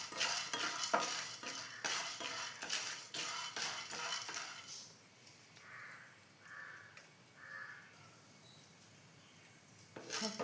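Toor dal dry-roasting in a pan, stirred with repeated scraping strokes in the first half, then quieter sizzling with faint clinks and a closing scrape.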